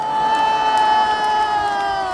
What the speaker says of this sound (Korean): 일단 박수하겠습니다.